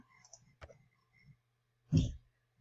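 A computer mouse gives a single crisp click in a quiet room, followed a moment later by a brief soft breathy burst, with faint low hum underneath.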